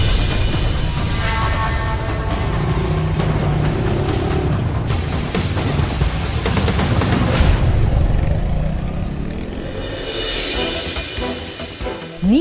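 A motorcycle running on water-based fuel is ridden past in a test, its engine droning and whirring loudly with shifting revs, then fading near the end.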